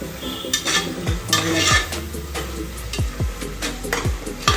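Chicken dusted with half a spoon of turmeric fries in a pan for a bachelor-style chicken biryani. Rhythmic metal spatula strokes scrape and clank against the pan over a continuous sizzle, close and fairly loud, with no voices.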